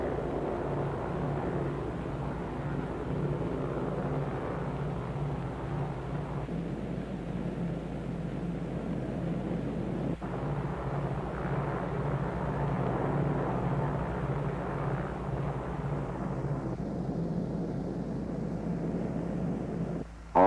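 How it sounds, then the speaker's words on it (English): Dave's Dream, a bomber flying toward Bikini with an escort of photographic, weather and instrument planes, drones with a steady, low propeller-engine roar that holds evenly throughout. "With her escort of photographic and weather and instrument planes, Dave's Dream proceeds to the Bikini target."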